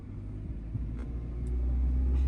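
A car engine accelerating during a beginner driving lesson, a steady low rumble that swells slightly as speed builds, close and continuous with no talk.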